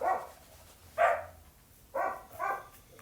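Several dog barks in an outdoor Minecraft setting: a short bark, a louder one a second later, then two more in quick succession, fairly close and clear over a low background hum.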